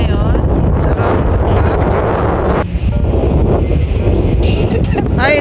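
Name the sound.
strong wind on the back deck of a ship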